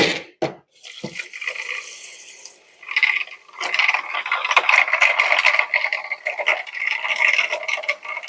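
Water runs from a tap with a steady rushing hiss, after a few brief clunks and knocks at the start, continuing close by to the end.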